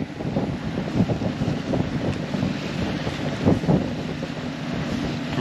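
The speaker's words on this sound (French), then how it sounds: "Toujours entre 21 et 25 nœuds de vent." Strong wind of 21 to 25 knots buffets a sailboat at sea, a rough, gusty rush with low rumbling pulses and sloshing water beneath, steady and close with no voices.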